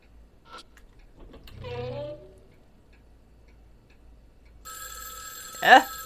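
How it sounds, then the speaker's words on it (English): A telephone rings in the horror video game Spirit Hunter NG, its bright, buzzing electronic ring entering near the end after brief speech and game sounds, loud and close. "As we stepped into the room, the loud ringing suddenly stopped."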